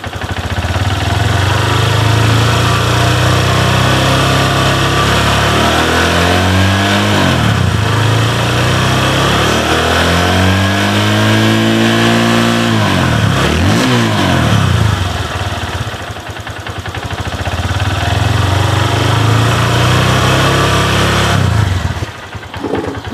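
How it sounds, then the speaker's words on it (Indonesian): Honda CB Verza motorcycle with a sputtering, hesitant throttle, revved in repeated rises and falls over a steady idle, loud and close, with the engine surging unevenly before settling back down. "Nah, ini suara mesinnya ini."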